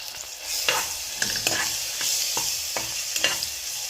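Ginger garlic paste sizzling in hot oil in a pan, a steady close frying hiss with periodic scrapes and clicks of a spoon stirring it, no voices.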